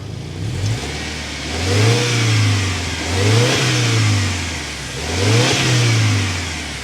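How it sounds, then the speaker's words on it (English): A 2024 Subaru Outback Wilderness turbocharged engine revs three times in a row, each rise and fall of the exhaust note clear and fairly close, with the engine dropping back toward idle between the blips. "start up this turbocharged so you can hear that exhaust note."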